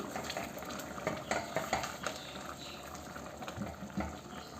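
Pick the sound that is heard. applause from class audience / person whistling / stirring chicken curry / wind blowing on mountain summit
stirring chicken curry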